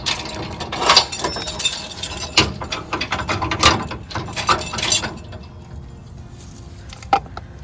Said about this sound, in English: we'll take our safety chains and we will connect them back to our vehicle